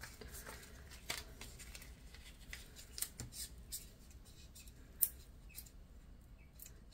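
Scissors snip through material while gift items made from beer mugs are assembled, giving faint, close, irregular cuts with a few sharper clicks in a quiet room.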